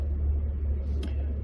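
A vehicle with new tires and a fresh alignment rolls along the road at speed, giving a steady low rumble of engine and road noise with no break.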